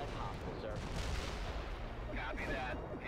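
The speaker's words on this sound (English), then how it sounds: "Heavy artillery barrage inbound." Heavy artillery barrage in the Cold War strategy game World in Conflict, a dense continuous rumble of overlapping blasts and gunfire with radio-style voices over it.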